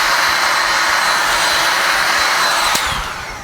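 A heat gun blows on a galaxy resin pour over TV trays with a loud, steady airy roar close up, holding constant before a brief click and a slight drop at the end.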